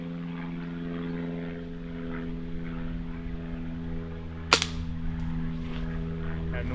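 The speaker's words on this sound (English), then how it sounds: "Excuse the airplane going to work." A small propeller plane drones steadily in the background, with a single sharp gunshot-like crack partway through.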